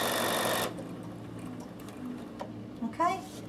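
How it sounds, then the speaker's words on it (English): A Bernina 7 Series sewing machine stitches a buttonhole with a loud, rapid, steady whir for under a second, then stops abruptly. Only faint clicks and handling noises follow. "So I'm just going to sew down, push my reverse button when I've got to my mark, keep sewing."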